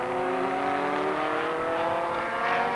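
Saab 99 rallycross cars racing past at Lydden Hill during a 1986 winter series final, a steady loud engine drone with layered rising and falling pitch as several cars howl by together.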